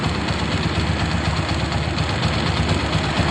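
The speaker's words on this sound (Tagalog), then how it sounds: "managitik pa rin dinig pa rin yung ingay sa makina" A Honda TMX 125 motorcycle engine idles steadily and close up, a dense continuous mechanical rumble with a faint rapid ticking running through it.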